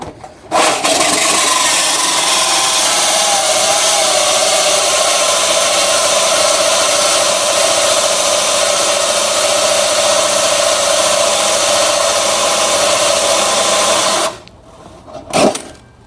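A power saw fitted with a bimetal blade cuts through aluminum, giving a loud, steady, harsh whine that runs unbroken for about fourteen seconds and then stops abruptly.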